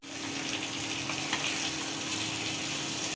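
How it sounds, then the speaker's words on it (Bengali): Fish frying in a pan, seasoned with turmeric and salt, gives a steady loud sizzle throughout, with no voices. "মাছটা ভালোভাবে ভাজা হয়ে গেছে নিচে দিয়ে এখন আমি এটাকে উল্টে দিচ্ছি"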